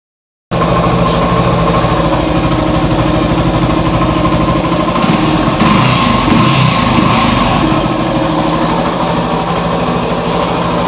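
A Yamaha FZ motorcycle engine runs steadily on a paddock stand, a loud close idle with a continuous throbbing drone from start to finish, rising slightly midway, with no voices.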